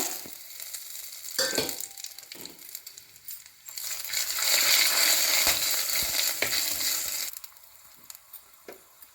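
Bay leaves, cinnamon, cloves, cardamom, star anise and stone flower sizzle in hot groundnut oil in a kadai, starting with scattered crackles and clinks, swelling into a loud continuous frying hiss midway, then easing back to quieter popping.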